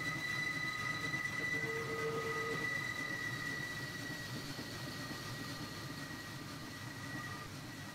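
Big Boy steam locomotive in a Train Simulator game, a steady rolling rumble with a continuous hum and faint high tonal whines throughout, no voices.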